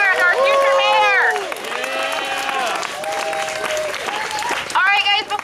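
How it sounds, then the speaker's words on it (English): Rally crowd at a No Jails No Pipelines march breaking into loud, sustained applause and cheering, with whoops and voices calling out over the clapping throughout. "Let's give our sister a big round of applause."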